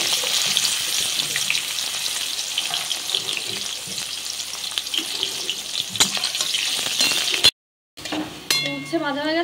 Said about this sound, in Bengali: এবারে উচ্ছেগুলো ভেজে নেব।